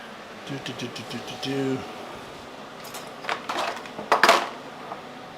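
A metal spoon being washed at a kitchen sink while cooking pork chops, with running water, metallic clinks and clatters rising toward the end, and a voice talking over the first part.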